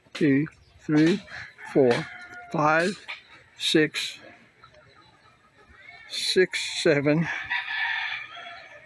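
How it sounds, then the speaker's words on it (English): Chickens in a farmyard crow and cluck loudly between stretches of a man counting aloud, several distinct cock-a-doodle-doo calls rising over the talk with fowl chatter close by. "These are all the chickens, by the way. So all that noise you hear, this is it."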